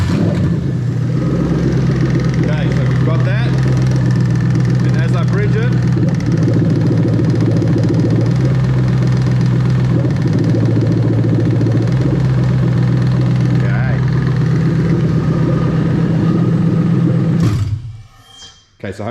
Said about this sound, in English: I'm going to start this motor up now